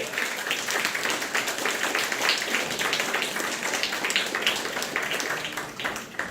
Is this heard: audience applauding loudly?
yes